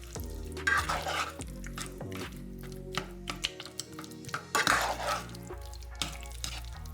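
Cheese is slowly stirred in a pan over low heat, with soft, irregular scraping and light knocks of a utensil against the pan, quiet and close with no talk.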